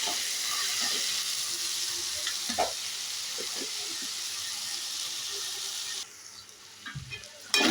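Salted tomatoes fry in a pan for a hotel-style khara bath, with a continuous close sizzle, a few soft stirring scrapes, and a brief dip in the hiss near the end.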